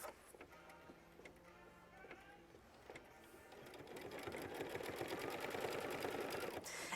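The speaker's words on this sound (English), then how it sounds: "it's just going to sew a nice clean line right across the bottom" An embroidery machine runs a straight stitch line across the bottom of a quilt sampler block, a steady rapid ticking mechanical whir that grows louder and denser partway through, close and continuous with no talk.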